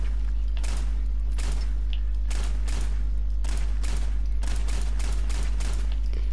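Pistol shots ring out in Fallout 4, a series of about eight sharp, loud reports at a fairly even pace over a constant low hum, with no talking.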